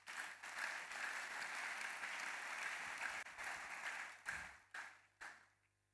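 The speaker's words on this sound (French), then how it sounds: "Nous acclamons pour la parole de Dieu" A church congregation applauding after a French-language sermon reading, producing a broad, steady wash of clapping from many hands that breaks into a few separate bursts before fading to quiet.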